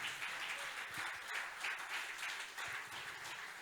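Steady applause from a church congregation, a dense wash of clapping that continues evenly throughout and sounds somewhat distant.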